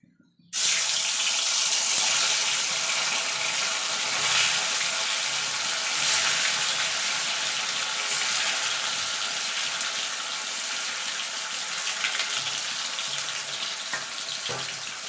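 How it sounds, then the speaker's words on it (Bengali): About 150 grams of paneer cubes, lightly salted, fry in hot oil in a pan, giving a loud, steady, close sizzling hiss that starts abruptly and runs unbroken throughout. "এবার পনিরটাকে একটু ভেজে নেব।"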